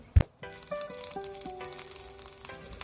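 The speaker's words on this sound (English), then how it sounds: "We've got a hot Dutch oven with butter and olive oil. In goes that heavily seasoned beef." Heavily seasoned beef drops into a hot Dutch oven with butter and olive oil. After a brief clatter, a steady loud sizzle starts and carries on with faint metallic scraping and ringing.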